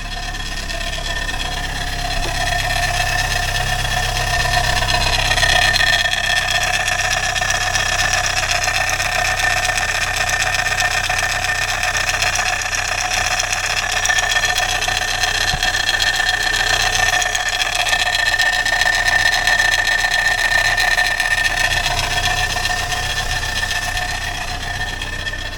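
A 2002 Chevy S10 2.2L engine idling with a timing chain fault, a loud steady mechanical rattle and hum that stays constant throughout.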